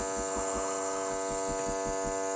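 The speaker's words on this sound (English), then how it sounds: "Oh, it's vacuum sealing, guys." A vacuum sealer runs on a food bag, giving a steady close-up electric buzz with a faint pulsing throb underneath as it draws out the air.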